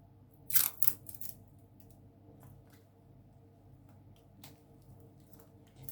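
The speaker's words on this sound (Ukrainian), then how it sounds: "ставлю скотч" Quiet rustling and a couple of sharp crinkly bursts of adhesive tape being pulled and pressed onto a coffee pack, then faint handling noises in a still room.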